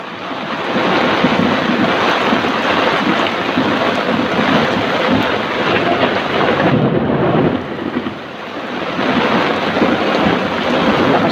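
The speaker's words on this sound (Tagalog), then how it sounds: "Lakas pa ng kidlat, oh. Tsaka kulog." Heavy rain and roaring wind from Typhoon Carina's flooding storm pour down loudly and without letup, with deep thunder rumbling through the downpour and a brief lull near the end.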